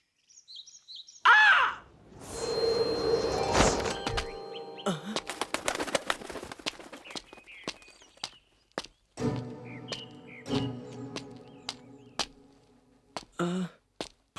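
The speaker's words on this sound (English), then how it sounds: "What's with that bird?" A bird in a forest gives a quick run of high chirps near the start, then gives way to louder mixed rustling, clattering and scattered sharp knocks.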